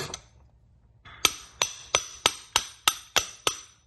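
A hammer drives out a rust-seized brake pin, with faint shuffling followed by eight evenly spaced, sharp metallic strikes, each ringing briefly before the next.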